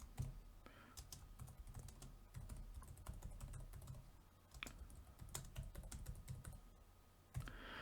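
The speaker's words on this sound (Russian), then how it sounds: "Также я еще хотел немножечко попечатать на клавиатуре" Fast, irregular typing on a computer keyboard in a quiet room, crisp close key clicks in bursts with short pauses and a louder clack near the end, no voices.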